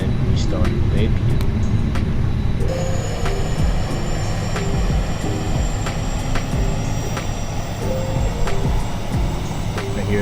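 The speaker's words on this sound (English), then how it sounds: "I hear the APU behind the plane spooling up." A continuous engine whine and rumble rises in pitch as an Airbus A320neo APU spools up in a flight simulator, with intermittent clicks and a voice speaking over it.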